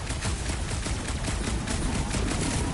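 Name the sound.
gunshot in Guardians of the Galaxy video game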